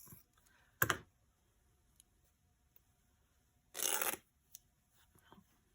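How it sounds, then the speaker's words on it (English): Paper being torn along the edge of a junk journal signature, two short ripping bursts separated by quiet stretches, with a few faint clicks and rustles in between. "So I wonder if I can get this to tear."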